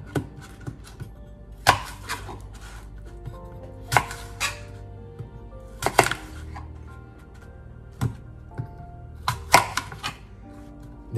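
A knife chopping fruit into big slices and halves for a fruit salad, giving sharp, separate thuds on a cutting board every second or two, close by and with no talk.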